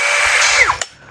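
A Dongcheng-compatible cordless power drill runs briefly, a loud, close, high motor whine that winds down in pitch, followed by a sharp click and near silence.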